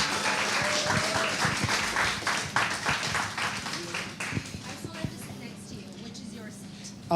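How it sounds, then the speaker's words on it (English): Audience at an industry conversation event claps steadily for several seconds to welcome actress Sunny Leone onto the stage, moderate and continuous applause with some voices mixed in. "Can we have a big round of applause for Sunny, please?"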